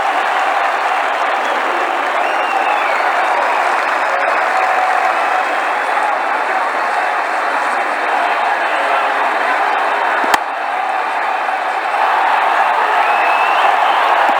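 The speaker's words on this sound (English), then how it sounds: "That's a huge six. Just listen to the crowd." In the video game Ashes Cricket 2009, during an Australia versus South Africa Test, a stadium crowd roars and cheers a six, a loud, steady wash of cheering and applause with one sharp click partway.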